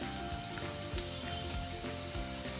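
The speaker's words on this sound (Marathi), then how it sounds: "लसूण थोडा लालसर झाला की आपण हे सुक्या मिरच्या टाकू." Garlic sizzling and frying in hot oil in a pan for a chutney, a steady close crackling hiss with occasional stirring scrapes and no talking.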